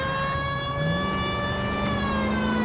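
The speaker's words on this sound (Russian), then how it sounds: "давайте врубим сирену" A steady electronic police car siren in the video game L.A. Noire wails continuously, its tone holding and then rising slightly, loud and unbroken with a faint engine hum beneath.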